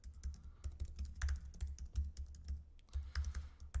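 Rapid clicking of computer keys as code is typed, a steady run of close, light keystrokes with no voices.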